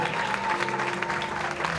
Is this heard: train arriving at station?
no